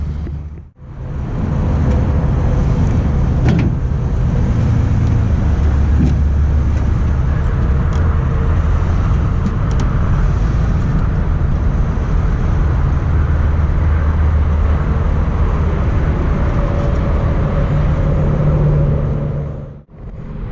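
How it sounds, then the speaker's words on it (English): A truck or SUV drives up ramps onto a trailer, its engine a steady loud low rumble that continues for about twenty seconds without speech. "So I'm gonna drive this thing up there."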